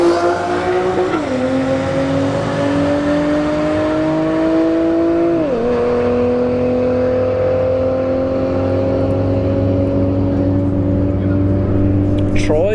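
A Nissan 370Z launches down a drag strip at a motorsports park, its engine climbing loudly through two upshifts with clear pitch drops, under continuous announcer commentary.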